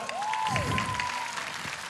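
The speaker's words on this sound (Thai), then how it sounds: "เอาปรบมือน้องโชกุนหน่อยนะครับ" Audience applause on a live Thai stage talent show, a brief steady patter of clapping and crowd noise with a host's voice and a sustained tone running over it.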